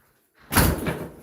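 A locked door is tried: after a moment of near silence, a single loud thudding rattle of the door against its frame comes close and alone, then fades.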